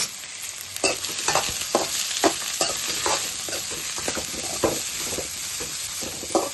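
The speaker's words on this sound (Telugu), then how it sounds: "ఉల్లిపాయ ముక్కలు క్యారెట్ ముక్కలు క్యాప్సికం ముక్కలు వేసుకుని వేసుకుందాం" Onion, carrot and capsicum pieces frying in a pan for egg noodles, a steady loud sizzle with regular scraping stirs of a spoon and no voices.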